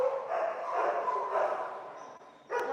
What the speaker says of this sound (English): Everybody's barking at you, Blue.